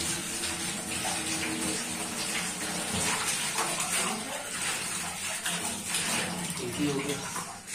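Tap water runs steadily into a sink while fruit such as strawberries is washed at home in Islamabad, a continuous close splashing gush with a person talking over it.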